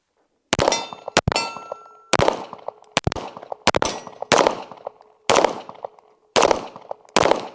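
An Alpha Foxtrot AF Romulus Comp pistol fires about ten loud, close shots at irregular intervals, each sharp crack followed by a ringing metallic clang from steel targets that decays over a fraction of a second.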